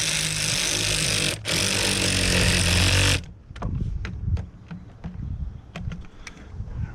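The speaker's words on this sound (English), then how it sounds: "Then grab your ratchet and your 8mm. Run these bad boys down." Bolts are run down with an 8mm socket while a junkyard A/C compressor goes into a third-generation tow truck: a loud, steady buzzing whir for about three seconds, then a series of sharp, rapid ratchet clicks close by.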